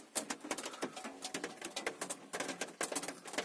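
Light rain pattering in a forest, a steady crowd of quick soft taps on leaves close by, dense and continuous with no voices.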